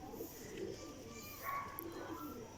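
Young golden racing pigeons cooing softly in a loft, a few low murmuring coos spread across the clip, faint and nearby against quiet background noise.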